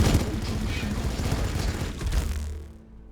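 Astra Militarum Basilisk artillery firing in the Warhammer Battlesector video game, a dense rattling barrage of rapid blasts that holds steady then fades out toward the end.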